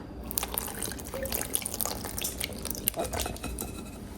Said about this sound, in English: Pour custard on top of bread.